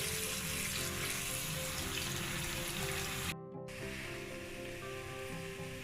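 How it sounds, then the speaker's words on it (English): Tap water runs over yellow split peas in a sink for rinsing, a constant loud hiss and splash. It stops briefly partway through, then resumes slightly softer. "I'm just going to give them a super good rinse here with this tap water"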